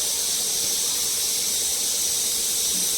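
Crushed garlic sizzling in hot oil in a pan, a steady loud hiss of frying with no pauses and no talk.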